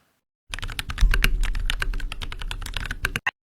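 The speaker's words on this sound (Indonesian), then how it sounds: "Kita ketik perbesar lambat" Rapid keystrokes on a computer keyboard as a search term is entered in a video editor's effects panel, a dense run of close, crisp clicks for about three seconds with no talking.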